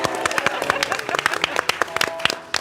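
Audience clapping at a live show, a loose run of many sharp individual claps from a small crowd, uneven and close, with a voice talking over it.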